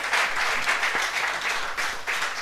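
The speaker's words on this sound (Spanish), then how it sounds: "dele un aplauso a José Luis" A church congregation claps for a man named José Luis at a Sunday service led by a pastor, dense steady applause filling the room alone for a couple of seconds.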